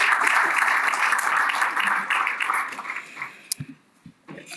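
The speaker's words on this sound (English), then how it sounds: "she deserves a couple of applause" Audience applause at a civic club event, a dense wash of clapping that thins into a few scattered claps near the end.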